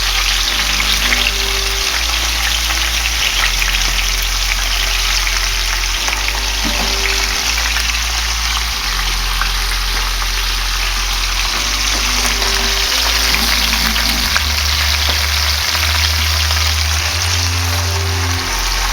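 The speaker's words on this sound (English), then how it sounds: "So the skillet is now nice and hot, ready for the onions. I'm going to go ahead and just dump those in there." Onions dumped into a hot skillet sizzle and fry loudly and steadily, with a constant close crackle and hiss that lasts the whole time.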